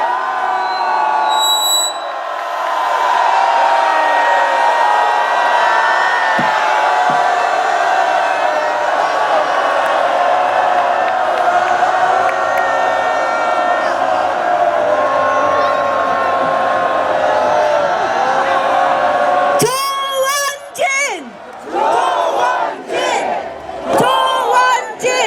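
A large crowd of supporters at a street rally in Dongdaemun, Seoul, roars and shouts in a loud sustained wave, then breaks into scattered cheers and bursts of noise near the end.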